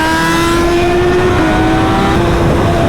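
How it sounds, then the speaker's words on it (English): Sport motorcycles, including a smaller bike under 600 cc, ride through Atlanta city streets; a loud, steady engine drone with sustained revving tones fills the whole stretch, close and continuous with no talking. "We got a smaller bike right here, under 600 cc's, that's keeping up with us."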